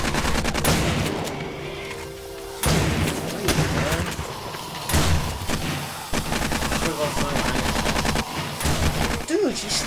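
AK rifle fire in the zombie game 7 Days to Die, rapid bursts of loud automatic shots crackling repeatedly through the clip, with players talking over the gunfire.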